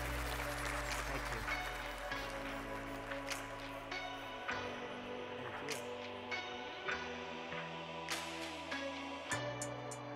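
Audience applause at an economic policy conference: faint, scattered clapping from a room, running softly under background tones and occasional voices.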